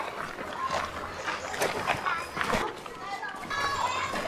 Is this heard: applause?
no